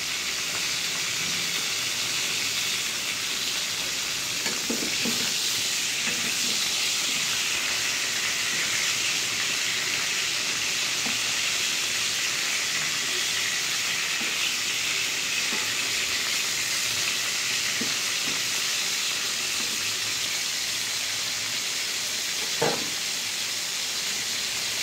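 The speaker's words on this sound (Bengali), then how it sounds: "পটল ভাজা আমার হয়ে গেছে" Pointed gourd (potol) slices fry in oil in a pan with a steady, loud, dense sizzle and hiss that never lets up, broken only by a few soft clinks of stirring.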